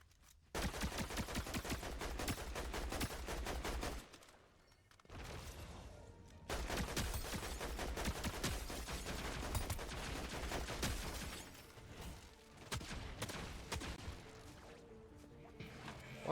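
Loud gunfire from the Fortnite video game, with long stretches of rapid automatic shots and a few brief pauses between volleys.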